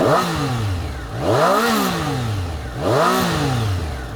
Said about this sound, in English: Sound from the silencer is now much improved, making the 2020 765 sounding almost like it has an aftermarket exhaust